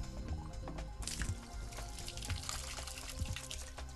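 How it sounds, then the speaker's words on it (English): Water dumping from the recovery tank of a Windsor Voyager Commodore Duo floor scrubber, a steady splashing pour with gurgles and drips throughout, moderately loud and getting fuller partway through. "you need to dump the recovery tank"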